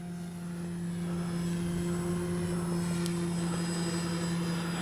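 An FMS Ranger RC plane flies low doing touch and goes, a steady propeller drone holding at an even level throughout.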